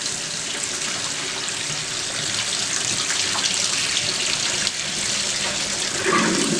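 Tap water runs in a steady, close rush while pinto beans are rinsed in the sink, a continuous splashing wash with no talking.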